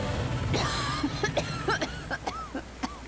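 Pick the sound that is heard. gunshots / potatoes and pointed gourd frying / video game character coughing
video game character coughing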